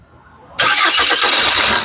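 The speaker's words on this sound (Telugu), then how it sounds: "ఇంజిన్ ఆఫ్ చేసామండి మళ్ళీ ఒకసారి స్టార్ట్ చేసి చూపిస్తాను" A 2016 Maruti Suzuki Vitara Brezza VDI diesel engine cranks briefly and starts on the first try after a short quiet pause, then settles into a loud, steady idle close by.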